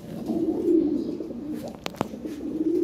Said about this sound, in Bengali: হ্যাঁ অনেক কবুতর আছে